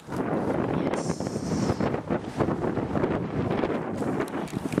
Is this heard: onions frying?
no